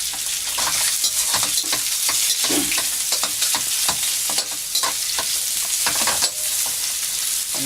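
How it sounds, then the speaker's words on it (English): Onions hiss and crackle loudly as they hit a hot pan for fish curry, a dense continuous sizzle with frequent sharp spits and a few scraping stirs up close, no talking. "Throw in the onions."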